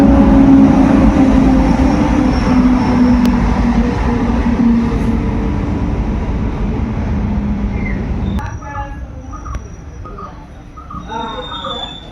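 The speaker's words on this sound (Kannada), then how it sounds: "ಟ್ರೈನ್ ಬಂತು ಇವಾಗ." A loud train rumbles and rolls in close by, its low roar fading as it slows, with faint squeals and voices emerging near the end.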